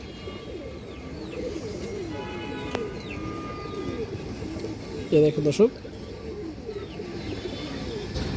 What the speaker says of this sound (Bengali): বড় সাইজের একটা পিওর আর্মি বাদি কৌতর আছে